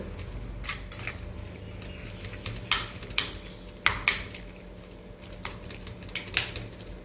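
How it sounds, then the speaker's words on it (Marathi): Roasted eggplant bharit is stirred together with onion, garlic, ginger and green chilli paste, a spoon knocking and scraping against the vessel in irregular clinks and taps over a quiet background hum. "आता आपण जे भरीत भाजलेलं कांदा लसूण अद्रक हिरवी मिरचीचा ठेचा सगळं एकत्र केलं ना त्याला छानपैकी कालून घेऊयात"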